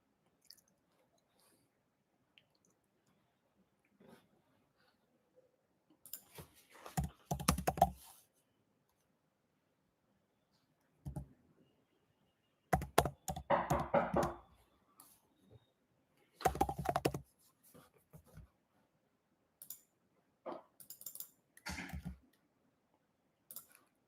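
Bursts of typing on a computer keyboard, several short clusters of close clicking keystrokes separated by quiet pauses, with no talking.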